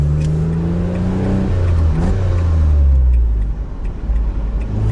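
A Renault Clio V6 engine revs loudly and rises in pitch, then settles into a rough, throaty idle with mechanical ticking, close by.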